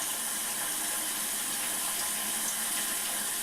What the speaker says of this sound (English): I'm going to rinse that brush out